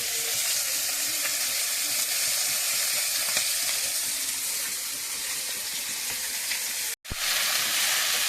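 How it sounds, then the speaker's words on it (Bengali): Fish and lentil dumplings fry in a wok with a loud, continuous oil sizzle and crackle that fills the space, briefly cut to silence near the end before resuming just as strongly. "ওপাশে কড়াইতে একটু বড়ি ভেজে নিচ্ছি"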